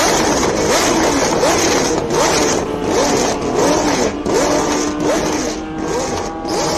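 A 1974 Tyrrell 007 Formula One car revs hard up the Simola Hillclimb, its engine pitch climbing in repeated rising sweeps through the gears, heard from a moderate distance over steady broadband noise.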